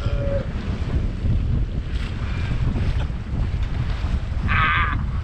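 Sailboat heeling in decent wind on rough water, a constant roar of wind buffeting the microphone over sloshing waves, with a brief rattle toward the end and no talk.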